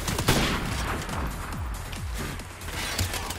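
Sniper rifle fire in Modern Warfare Remastered: a sharp, loud shot near the start, followed by a rumbling tail and lighter distant battle noise.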